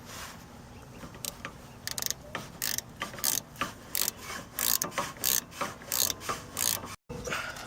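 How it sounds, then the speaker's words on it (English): Close, rhythmic ratcheting clicks come in repeated short bursts as a brake bolt is tightened with a 17mm wrench during a brake and rotor change, with faint rubbing between strokes. "we're going to use a 17mm wrench to hold down the back bolt. So as we tighten it"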